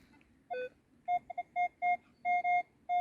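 A metal detector beeps in short electronic tones, some clipped and some held longer, irregular and close, over faint background rustle, while digging near two old castles in Czechia.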